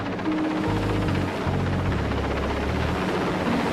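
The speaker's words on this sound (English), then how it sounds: "a rescue helicopter winches up 14 of the survivors and flies them back to Aberdeen" A rescue helicopter flies with a steady, loud rotor thrum and a constant engine roar, heard alone without talk.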